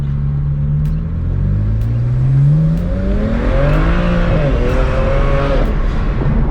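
Heard from inside, a turbocharged BMW E92 335i with the N54 engine accelerates hard, its loud engine note climbing steadily in pitch through the rev range over a constant rumble.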